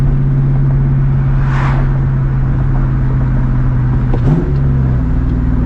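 A loud straight-piped 2004 Ford Mustang GT V8 cruises at night, a deep steady exhaust drone with a brief rev change and shift partway through, heard from inside the car with no talking.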